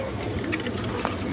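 Big Indian Bombay pigeons coo low and soft in a faint, murmuring stretch that sits under a hiss of background noise.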